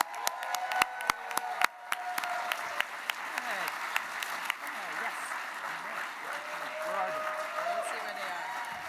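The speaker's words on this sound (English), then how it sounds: "Big round of applause." An awards gala audience applauds steadily, a broad patter of many hands clapping at moderate distance, with a few sharp individual claps standing out early on.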